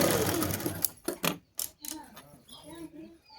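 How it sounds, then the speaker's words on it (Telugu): A sewing machine stitches a blouse sleeve seam at the shoulder, with a rhythmic mechanical whir and clatter near the start that breaks into short bursts, while a voice talks over it. "ఇట్లా కుట్టుకుంటూ రావాలన్నమాట"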